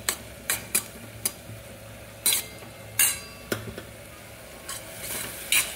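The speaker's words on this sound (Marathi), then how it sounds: "शेंगदाण्याचं कूट टाकल्यानंतर थोडा वेळ परतवून घ्यायची अजून" Fenugreek sabzi with peanut powder stirred in a pan at home, a soft continuous sizzle broken by repeated sharp scrapes and clinks of a spoon against the pan, close and alone.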